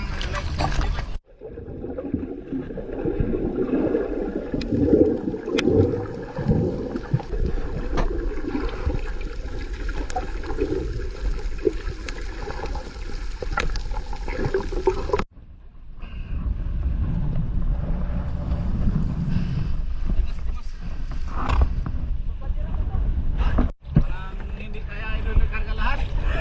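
Wind and rough sea waves buffet a small fishing boat out on open water, a steady loud roar of wind and splashing that drops out briefly midway, with people talking and shouting over it.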